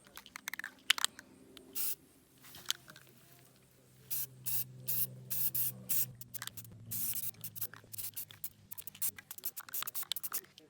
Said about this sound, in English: So I'm gonna re-spray paint it black so it looks nice and clean